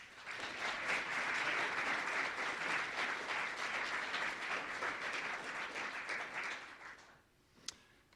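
Audience at a keynote address breaking into sustained applause, a dense crowd of hands clapping steadily for several seconds, then fading out with a single sharp knock near the end.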